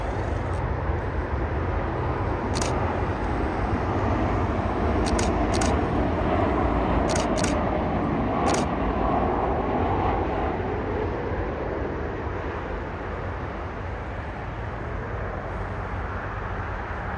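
A Volaris airliner departs San Jose airport (SJC) for Guadalajara, with a loud, steady jet engine roar that holds for the whole stretch, gradually easing, under a constant broadband rumble.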